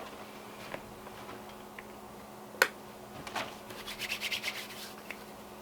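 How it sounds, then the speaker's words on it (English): Hands rub together with hand sanitizer during PPE donning training at a fire department, giving a soft, close run of quick brushing and rubbing strokes in the last few seconds after a single sharp tap, with no talk. "Perform hand hygiene with hand sanitizer."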